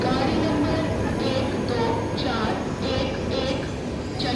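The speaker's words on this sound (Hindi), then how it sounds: "यहाँ पे सामने इंटरसिटी आ गई है, चंडीगढ़ अमृतसर इंटरसिटी एक्सप्रेस।" The Chandigarh–Amritsar Intercity Express arriving at an Indian railway station, a loud continuous rumble of rolling wheels with a rhythmic clatter as carriages pass close by.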